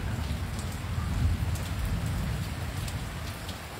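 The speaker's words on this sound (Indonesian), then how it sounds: "Iya hujan." Steady rain falling outdoors, a dense soft patter with a low rumbling background, moderate level and continuous, with no talk over it.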